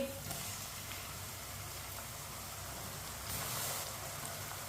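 Finely chopped tomatoes fry in a pan with lightly browned onion and garlic for shalgam, a steady close hiss of sizzling running throughout and swelling briefly near the end.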